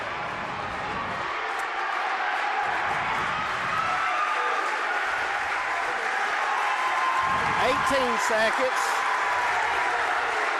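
Crowd cheering and applause in a gym during the closing seconds of overtime in a girls' high school regional championship basketball game, Knott vs Letcher, a loud steady roar with shoe squeaks under continuous commentary.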